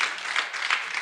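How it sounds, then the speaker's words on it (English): An audience at a county freeholders' St. Patrick's Day celebration claps in a steady, dense patter that lasts the whole short stretch without fading, moderately loud and a little distant. "one last round of applause"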